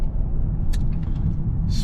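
A BMW 540i xDrive with lowering springs drives on the road, a low steady rumble of engine and tires inside the cabin with a few faint clicks and rattles over the drone.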